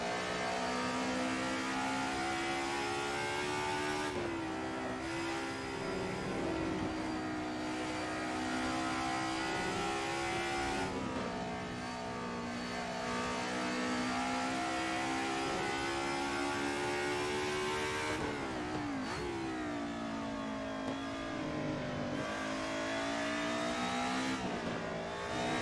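A four-cylinder car engine in a racing video game revs hard and repeatedly, loud and close, each rising pull broken by brief dips at gear shifts, with no talking.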